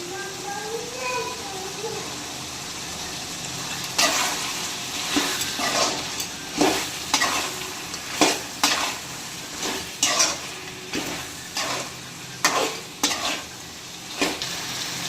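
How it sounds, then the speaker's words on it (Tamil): Mutton gravy with salt being stirred in a pan, a steady run of rhythmic scraping strokes over a continuous sizzle, close and fairly loud. "இதையும் நல்லா கிளறி விட்டுக்கலாம்"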